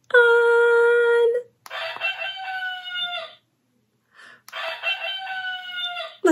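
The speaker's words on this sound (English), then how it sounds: "Let's ruffle the rooster's feathers to hear him cock-a-doodle-doo." A toy rooster crows cock-a-doodle-doo three times in a row, loud and close, with brief pauses between calls and no voices over it.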